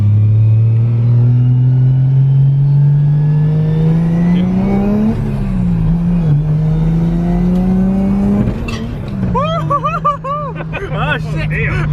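A Nissan Skyline R34 fitted with a Toyota 1JZ engine accelerates up through a gear with a rising, loud engine note, then shifts and pulls again while people talk and chatter over it.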